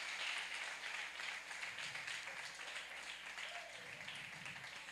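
Congregation applauding during a church sermon, a dense continuous wash of many hands clapping that stays steady and fairly loud throughout, with faint voices mixed in.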